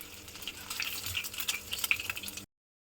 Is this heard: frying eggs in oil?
yes